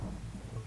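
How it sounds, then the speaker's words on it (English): Thunder rumbling from a lightning strike in Donkey Kong Country 3, a steady low, fairly loud roll filling the whole short moment with no voices. "Lightning strikes you?"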